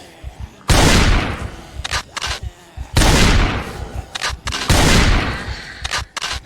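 Gunshots fire in a city in Project Zomboid, three loud booming blasts spaced a couple of seconds apart, each followed by a decaying echo and quick sharp pops.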